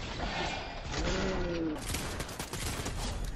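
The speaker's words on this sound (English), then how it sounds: "Somebody else is shooting." Rapid gunfire crackles through a Fortnite-style battle royale match on PS5, dense bursts of shots continuing steadily under game sounds with some tonal chirps early on.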